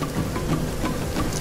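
Rain falling in The Forest survival game, a steady soft patter and wash of drops, continuous and even over a short stretch with no talk.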